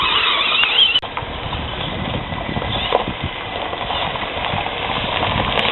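A submersible RC rock crawler drives over grass toward rocks, its small electric motor giving a continuous buzzing whir with scrapes and knocks as it moves, fairly close.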